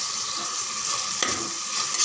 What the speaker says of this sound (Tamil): கொஞ்சம் நல்லா வதக்கிடுங்க ஒரு 2 செகண்டு.